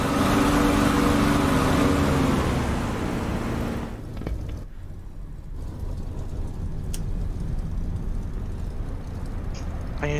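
A damaged YF-23 Black Widow II jet engine in the DCS combat flight simulator, a loud steady roar with a rough, strained hum that drops back after about four seconds to a lower, duller drone.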